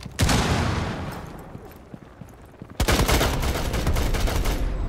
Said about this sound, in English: I shot that dude straight through the freaking hole